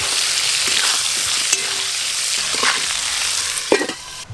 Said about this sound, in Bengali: মাছ ভাজার তেলে আমি আলুগুলোও লাল লাল করে ভেজে নেব।